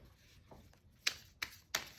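A mini card deck is shuffled close by: quiet riffling and then three sharp snaps of cards spaced evenly over about two seconds, with no talk.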